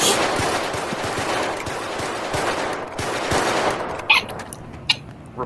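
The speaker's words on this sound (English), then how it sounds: "Reports of gunfire." Rapid bursts of gunfire crackle in quick succession, then a few sharper isolated shots ring out near the end.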